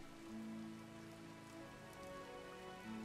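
Steady rain falling on a farm in the Farmers Dynasty video game, a soft continuous patter with a low tonal hum running beneath it and no voices.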